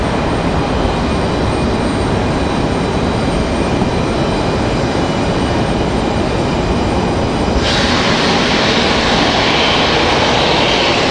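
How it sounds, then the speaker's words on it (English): Loud, steady roar of Airbus A320 jet engines running up at Raleigh-Durham International Airport, a continuous broadband rumble with a high whine that brightens and intensifies near the end. "So you can already hear this A321 or A320 starting up here."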